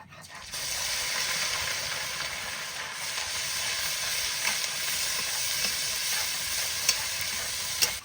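Onion paste hits hot oil in a village kitchen pan and sets off a sudden, steady sizzle that stays loud and close, with a few faint clinks of stirring and no talk.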